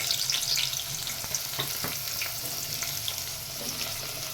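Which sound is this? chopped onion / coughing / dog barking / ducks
chopped onion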